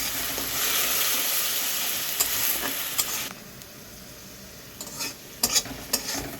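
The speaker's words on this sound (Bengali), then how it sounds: "পেঁয়াজটা একটু হালকা হালকা ভেজে নিতে হবে" Chopped onion and green chilli fry in a pan with a steady close sizzle that drops lower partway through, while a spatula stirs and taps against the pan.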